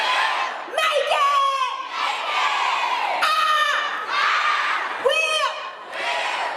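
A large crowd of young voices shouts a chant in unison at a school speech event, loud, repeated bursts with cheering and whoops between them.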